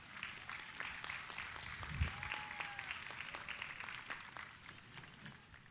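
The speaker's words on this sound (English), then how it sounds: "I'll give you a round of applause." Steady audience applause fills a high school graduation ceremony after a wind symphony performance, many hands clapping at moderate distance in a continuous, even wash for nearly six seconds.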